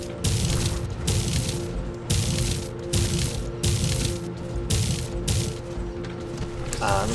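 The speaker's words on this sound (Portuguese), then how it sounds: "Soltar um tiro espacial." A robot in the War Robots game fires a space shot: a rapid string of regular mechanical, ratcheting bursts over a steady tonal hum, loud and close throughout.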